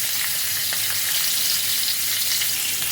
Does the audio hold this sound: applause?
no